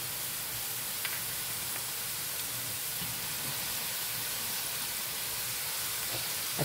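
Cumin seeds added to hot oil while cooking chana biryani: a steady broadband sizzle and hiss runs throughout, loud and close, with a few faint crackles.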